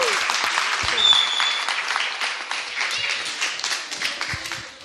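A church congregation at a Brazilian service claps together in a lively, sustained round of applause with a few cheers mixed in, fading slightly toward the end.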